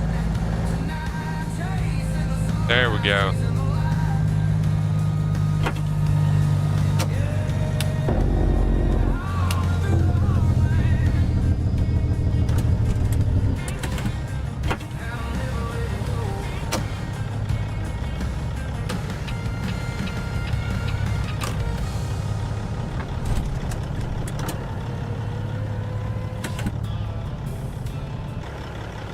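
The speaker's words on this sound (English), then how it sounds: "Pretty loud engine." Heavy truck engine in American Truck Simulator, a Peterbilt 389/379-style rig hauling a reefer trailer, rumbling loudly and steadily throughout with gear and brake noises, while someone talks briefly over it.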